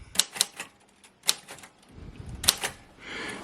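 Keys strike sharply on a Royal Custom portable manual typewriter, a few loud separate clacks with irregular gaps and a short mechanical rustle at the end.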